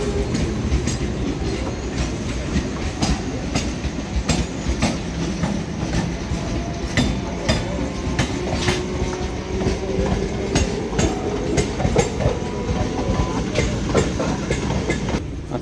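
Howrah–Barmer express train running at steady speed, a continuous loud rumble of the carriage with rhythmic clickety-clack of wheels over rail joints and occasional faint wheel squeal, heard from inside the coach with no talking.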